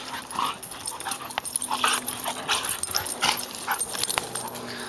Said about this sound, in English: Hey, good puppies.